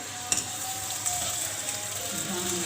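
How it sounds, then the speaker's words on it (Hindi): Onions frying in hot oil in a kadhai for prawn karahi, a soft continuous sizzle with a couple of light clinks from stirring, fairly quiet and without talk. "तो उसके बाद फिर हम ये ऑनियन जो है वो ऑयल में डालेंगे, कढ़ाई में"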